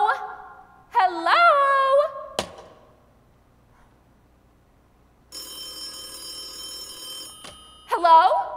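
A telephone bell rings in a stage-play performance of "Sorry, Wrong Number" by a high school theatre group: one long steady ring in the middle, set between stretches where someone speaks anxiously.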